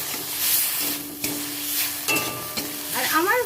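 Mustard paste for pointed gourd sizzling and frying in a pan, with scraping stirs and spoon clinks against the metal over a steady hiss, close and moderately loud.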